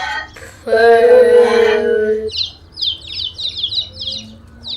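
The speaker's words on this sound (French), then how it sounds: "Et ils font quel bruit ces poussins?" High, thin chirps repeat rapidly in a short run after a louder, drawn-out call; small birds peeping nearby.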